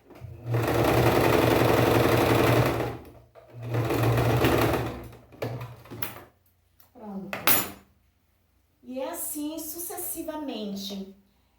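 A home sewing machine stitches fabric in long whirring runs, pausing between bursts, followed by short mechanical clicks and someone speaking near the end.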